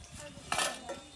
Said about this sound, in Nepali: त्यहाँनिर पुरा भाँडा माझ्दैछ मोमोको भाँडा पुरा कालो भएको छ